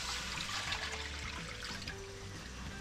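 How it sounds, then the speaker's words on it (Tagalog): Water pours steadily into a cooking pot set up for boiling, a continuous close splashing trickle with no voices. "Magpakulo naman tayo ng tubig."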